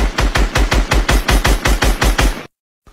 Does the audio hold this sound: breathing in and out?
no